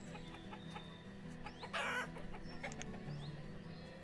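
Chickens in the video game Banished, with scattered soft clucks and one louder squawk over a faint, steady game backdrop.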